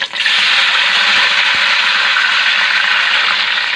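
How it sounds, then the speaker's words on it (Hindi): Water poured into a pot of browned onions and rice for lentil rice, a loud, steady rushing pour held close for several seconds without a break. "अब इसमें 5 गिलास हम पानी शामिल कर"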